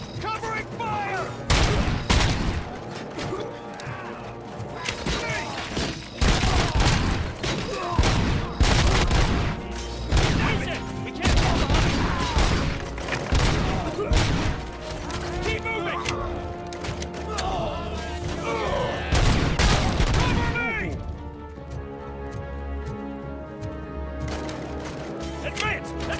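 Heavy gunfire in the Robocop Rogue City video game, with loud bursts of automatic shots, booms and mechanical clanks, interrupted by shouted voices and game music.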